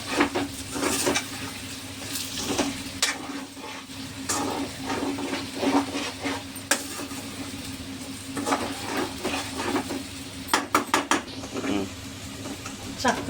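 Potato and green chili fry being stirred in a pan, with repeated scraping and clinking strokes against the metal over a soft sizzle, steady and close.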